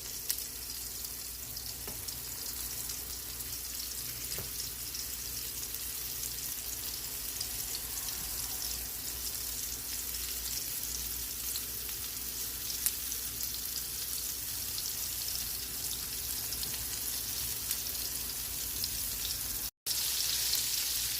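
Meatballs dredged in flour sizzling steadily in a frying pan, a soft continuous hiss and crackle with no talking, fairly faint and close.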